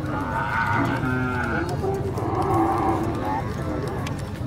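A carabao, or water buffalo, lets out deep, drawn-out moos twice in a row at a livestock setting, loud and fairly near, with people talking underneath.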